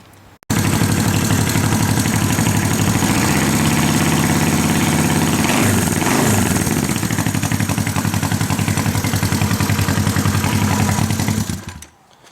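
A Honda CB350 motorcycle engine, freshly given a cam chain adjustment, starts and idles steadily and close by for about eleven seconds with an even, continuous mechanical hum before cutting off.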